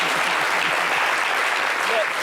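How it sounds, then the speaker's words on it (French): A studio audience claps in a dense, steady burst of applause on a French-language talk show, filling the whole moment with continuous hand noise. "Ça s'applaudit encore."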